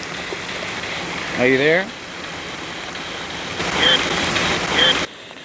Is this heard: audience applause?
no